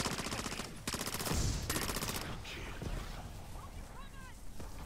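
Rapid automatic gunfire from a console zombie shooter aimed at eggs, dense bursts of shots in the first half that thin into scattered shots and game effects.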